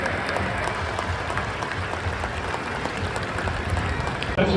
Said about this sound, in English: Longhorn fans, would you please give these outstanding students a big round of applause